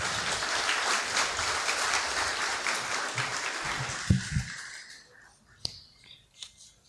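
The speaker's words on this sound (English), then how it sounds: "Please give him a round of applause." Mourners at a memorial celebrating a life applaud a tribute speaker in moderate clapping that tapers off after about four seconds, followed by soft murmuring and scattered small sounds.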